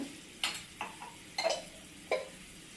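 A spoon scrapes and taps in a pan of melted jaggery with black sesame seeds, four or five short stirring strokes, quiet and close with no talk.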